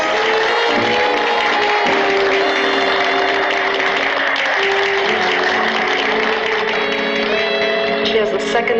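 A theatre audience claps loudly for a Miss Body Beautiful contestant, a dense, sustained burst of applause from a crowd, with music playing underneath throughout.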